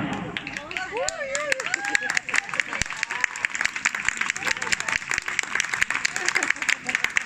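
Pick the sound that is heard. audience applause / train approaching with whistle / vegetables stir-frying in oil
audience applause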